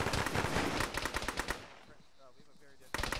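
A military shooter game's gunfire comes in rapid, loud bursts of sharp shots for about a second and a half, drops to faint background sounds with quiet voices, then a short burst of firing returns.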